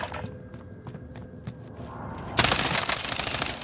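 Gunfire from an LC10 submachine gun in the online shooter Warzone, with sparse shots early on, then a dense burst of rapid automatic fire erupting loudly over continuous game ambience.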